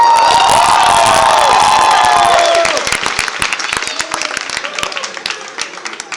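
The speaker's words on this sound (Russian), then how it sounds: "Что за аплодисменты после такого брэка?" A crowd at a breakdance battle bursts into loud cheering, whooping and clapping over music, then the roar drops to scattered, uneven applause with sharp individual claps.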